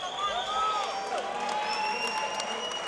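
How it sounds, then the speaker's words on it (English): A distant arena crowd at a Shamrock FC mixed martial arts event applauds both fighters before the scorecards, with faint whistles and cheers mixed into a low, steady wash of clapping. "let's give both of these fighters a big round of applause"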